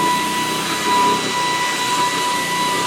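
A Greenote cordless rechargeable vacuum cleaner runs on its high setting, giving a steady, fairly loud whine and whoosh of suction that holds without a break.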